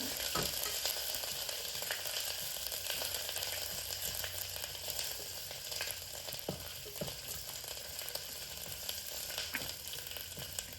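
Garlic paste fries in very hot oil over a high gas flame, a loud, continuous crackling sizzle with sharp pops scattered throughout, no voices present.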